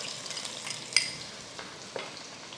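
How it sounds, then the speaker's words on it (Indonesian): Onion sautés in hot oil in a pan, a soft steady sizzle broken by a few sharp clicks of a utensil stirring, close and moderately quiet with no voices. "Kita tumis bawang bombay terlebih dahulu ya"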